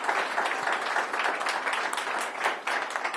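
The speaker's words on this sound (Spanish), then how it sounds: "yo quiero un aplauso para Ignacio Gaitán, porque lo que ha hecho ha sido titánico" Audience applause for Ignacio Gaitán at the opening of an entrepreneurship centre in Medellín, a continuous crowd clapping wash heard at a moderate distance, fairly even with slight swells.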